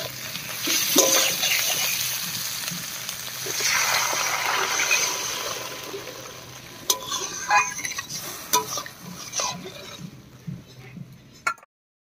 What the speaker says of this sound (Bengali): মশলার সঙ্গে আলুটাকেও খুব ভালো করে কষিয়ে নিয়েছি। এবারে জল দেব।